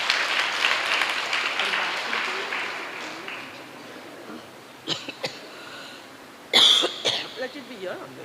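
Audience applause at a hybrid palliative care event: a broad wash of clapping fills the opening seconds, then fades into room noise with a few scattered coughs or sharp sounds near the end.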